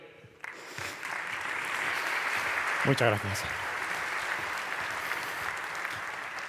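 Audience applause for a guest speaker at a Spanish business conference, AUSAPE Forum 2022, a sustained crowd clapping that fills the room under the host's voice, with a brief spoken thanks over it near the middle.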